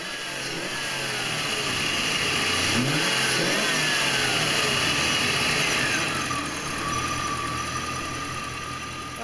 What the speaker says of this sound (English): I nailed into it hard a couple times and went through the gears and the transmission, and it shifted out well